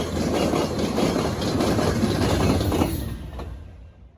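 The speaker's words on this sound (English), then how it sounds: "see a few trains go by" An HO-scale model train rumbles steadily past on a layout with rhythmic clattering on the rails, loud at first and fading away over the last second.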